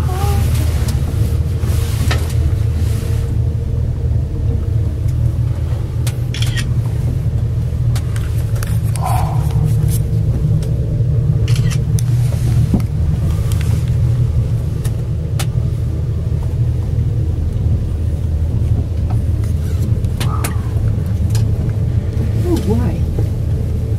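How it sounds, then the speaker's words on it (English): Steady low rumble and whir of a gondola cabin climbing Sulphur Mountain in Banff, continuous throughout with a few faint clicks, while people talk quietly in the background. "this is the gondola ride"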